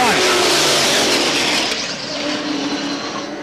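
Race cars roaring past at Star Speedway, a loud dense engine wash that swells and then eases slightly, with a race announcer talking over it.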